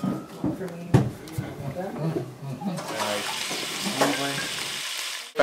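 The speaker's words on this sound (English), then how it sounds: "The idea is to just give them a sear, get the flavor, the caramelization going on" Rack-of-rib pieces searing in a hot pan sizzle beneath a person talking, the frying growing louder and brighter in the second half.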